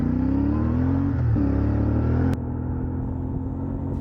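A CFMoto 450MT adventure motorcycle on an outback ride stuck in third gear, its engine droning loudly and steadily with a rising whine, then a sharp click and a slightly lower, rougher hum.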